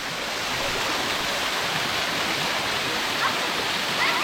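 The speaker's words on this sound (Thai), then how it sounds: "ตอนนี้เราก็มาอยู่ที่น้ำตกสลัดใดแล้วค่ะ" Salatdai waterfall pours in a steady, loud, close roar of rushing water that fills the whole stretch without pause, with no voices over it.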